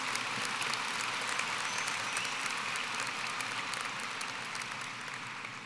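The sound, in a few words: audience applause for graduates at high school graduation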